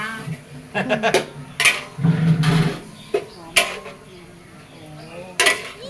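Clattering of metal on a pot as a ladle is used while stir-frying in a home kitchen, with scattered clinks and scrapes in uneven bursts, mixed with background chatter and kitchen noise.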